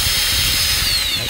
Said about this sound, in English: So every once in a while, you just got to run the bit in and out.